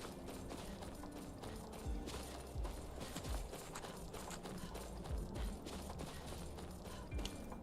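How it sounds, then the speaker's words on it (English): Horse hooves clip-clop in the video game Skyrim amid game noise, with a handful of scattered dull thuds and clatters spread over several seconds, quiet and without talk. "The horse is still down here?"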